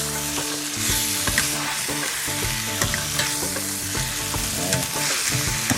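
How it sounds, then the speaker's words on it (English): Chicken searing over high heat in a karahi for Pakistani chicken karahi gosht, a loud dense sizzle with continuous metal spatula scraping and stirring, close up and without talk. "put this on a high heat now because I want to sear off the chicken"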